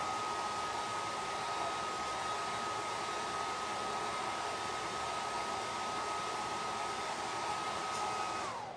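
A hair dryer blows steadily on wet paint on a craft project, a loud, constant close whoosh with a faint whine running nearly nine seconds before cutting off at the end.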